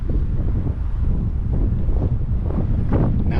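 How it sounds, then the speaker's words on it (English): Strong wind buffeting the microphone outdoors at the Hot Well hot-spring ruins, a loud continuous low rumble with gusty surges throughout and no speech. "Now it's way too windy to hear anything."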